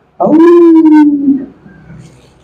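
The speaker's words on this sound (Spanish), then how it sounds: "Ay, qué bonito se oye ese aullido." A single dog lets out one loud, drawn-out howl that holds a steady pitch for about a second before fading into quiet room noise.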